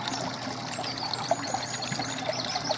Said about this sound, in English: this is the back of the veg filter where the water comes out